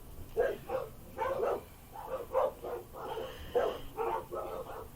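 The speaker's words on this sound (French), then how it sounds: "Le temps que mes chiens arrêtent, parce qu'autrement, vous n'allez rien entendre." Dogs bark in quick repeated bursts, a steady volley of sharp, fairly close woofs from more than one animal, with no voice over them.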